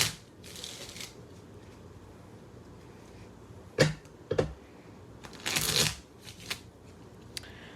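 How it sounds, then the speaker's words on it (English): A deck of Baby Tarot of Marseille cards is shuffled in several quick riffling bursts, close and fairly loud, separated by short quiet pauses. "Let me give it a few shuffles."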